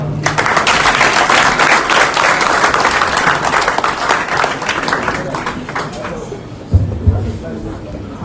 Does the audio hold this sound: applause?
yes